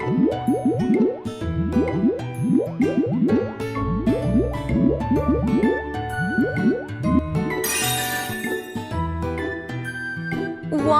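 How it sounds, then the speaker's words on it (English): Soapy bubbles are worked up on faces in a children's cartoon washing game: repeated squishy, drippy squelches in a quick rhythm over cheerful background music, with a brief sparkly shimmer near the end. "Make some bubbles on their faces."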